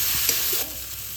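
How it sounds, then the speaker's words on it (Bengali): A short burst of sizzling as coriander powder is stirred into frying masala of onion and tomato in a pan, close and crackly, easing off slightly toward the end. "এবার আমি দিয়ে দেবো এর মধ্যে হাফ চামচ ধনে গুঁড়ো। এটাকে ভালোভাবে মিশিয়ে নেব।"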